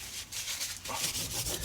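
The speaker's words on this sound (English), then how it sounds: "Give that a quick wipe up." A quick wipe with a cloth to clean up spirit glue on a momigami-decorated journal cover gives steady close rubbing, a soft continuous swishing that pulses in short strokes with no talking.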